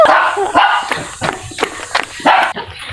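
A dog barks repeatedly in short, loud yaps, close by, with some excited whining and a voice mixed in.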